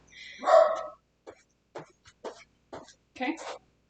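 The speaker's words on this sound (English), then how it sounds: "Excuse my dogs." Several dogs barking indoors during a home workout, a loud burst followed by a series of short, sharp barks spaced irregularly.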